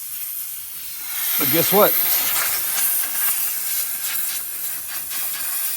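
Compressed air hisses steadily from a crack in the line of a retractable air hose reel, a loud continuous leak that runs the whole time, with someone briefly speaking over it.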